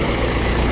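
An old-model Mahindra tractor, started by pulling a rope on its pulley, idles with a low, steady rumble, close by and unbroken for a brief moment.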